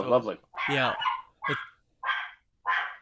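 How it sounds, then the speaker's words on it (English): A pet dog barks five times in quick succession, sharp and close, with a person talking over the first barks before the later yaps ring out alone. "That's my dog."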